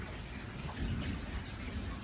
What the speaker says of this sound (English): Thunder roaring in the distance.